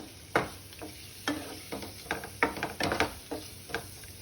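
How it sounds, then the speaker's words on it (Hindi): Masala-coated paneer for Kolhapuri paneer roasting in a pan, with soft sizzling and repeated scraping strokes of a spatula stirring and turning the pieces, close and moderately loud, no talking. "थोड़ा ये रोस्ट भी हो जाएगा, थोड़ा भून भी जाएगा पनीर"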